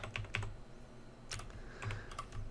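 Rapid key clicks from typing on a computer keyboard while entering Python commands, arriving in short bursts with brief pauses, close and fairly quiet, no talking.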